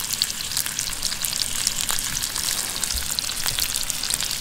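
Burgers fry in oil in a pan on a gas camping stove outdoors on a mountain wild camp, giving a steady close crackling sizzle with scattered spits and pops throughout, no talk.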